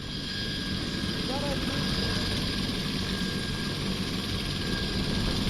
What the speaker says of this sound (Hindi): उनका हेलीकॉप्टर पहुंच चुका है